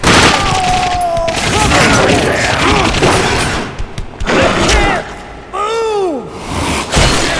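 Rapid gunfire in the first-person shooter The Darkness II, with loud bursts and booming shots mixed with game effects, while voices shout over the action.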